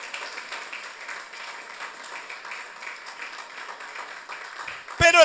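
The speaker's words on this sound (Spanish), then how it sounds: "¿Le quiere usted darle un aplauso al Señor?" Church congregation applauding during a Spanish-language sermon: a steady, dense wash of clapping for several seconds, followed at the end by a voice speaking loudly and close.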